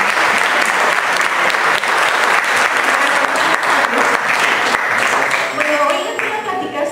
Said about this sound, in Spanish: para la cual pido un aplauso